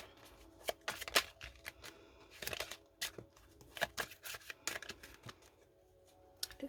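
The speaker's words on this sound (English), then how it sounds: "Let me just shuffle this deck a bit" Tarot cards being shuffled by hand during a pick-a-card reading, with irregular bursts of crisp riffling and slapping separated by short quiet gaps, close up and with no talking.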